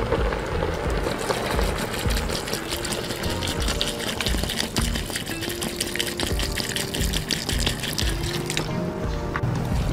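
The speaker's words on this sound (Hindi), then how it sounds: "और अब मैं इसमें 3 गिलास पानी के ऐड कर दूँगा।" Three glasses of water poured into a pot of beef korma in a home kitchen, a steady gushing, splashing stream that runs continuously and close by without speech.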